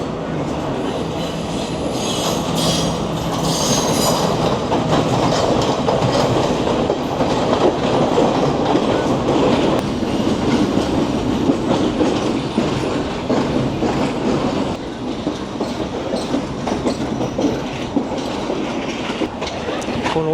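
A heavy third-class passenger carriage on a Sri Lankan train rattles and clatters over the rails near Colombo Fort, a loud, continuous rumble with clanks and wheel squeal heard from inside.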